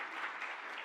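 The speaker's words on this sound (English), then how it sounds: "Can we give her a round of applause for that?" Audience at a pilot launch event applauds a session facilitator, a brief, fairly faint patch of steady group clapping heard alone.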